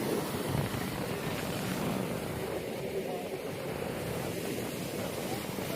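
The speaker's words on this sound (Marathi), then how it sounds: "तर बघू शकता गिरणा नदी कशी वाहते." The Girna river rushes along near a waterfall in a constant broad roar of flowing water, with wind buffeting the microphone and no talk.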